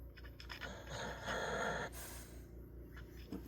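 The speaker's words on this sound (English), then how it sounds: "I can listen to her snore, and it'll put me to sleep" A sleeping dog snores softly up close, slow breathy snorts and wheezy inhales rising and falling over a few seconds in a quiet room, with no talking.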